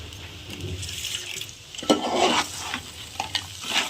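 Crab fries with curry leaves and coriander, a loud, close hiss and crackle under brisk stirring strokes and a few scrapes against the pan.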